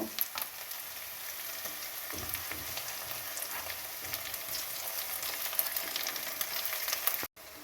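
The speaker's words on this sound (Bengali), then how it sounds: "আদা রসুন পেঁয়াজ ভালো করে লাল লাল করে ভেজে নিচ্ছি" Ginger-garlic paste frying with onions in oil for a spicy loitta fish curry, a steady close crackling sizzle with light stirring scrapes, continuous for about seven seconds before cutting out abruptly.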